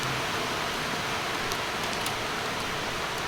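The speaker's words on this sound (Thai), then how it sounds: "เดี๋ยวเราลุยฝนไปให้ดู" Steady rain pours outdoors around a heat-insulated trailer, a dense, even hiss with no breaks and no voices.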